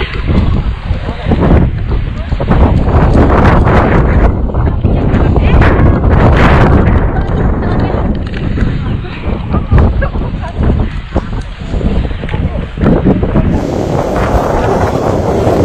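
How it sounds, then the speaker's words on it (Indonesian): Strong wind roars and buffets the microphone on Bondolan peak, 1885 m, on Mount Ungaran via Perantunan, in loud continuous gusts with a voice speaking briefly amid the rushing noise. "Ini anginnya gede banget."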